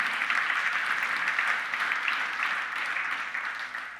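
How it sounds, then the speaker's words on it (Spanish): Church congregation in a Spanish-language service breaking into steady, sustained applause, a dense even wash of many hands clapping at moderate distance with no speech over it. "Dale otro fuerte aplauso"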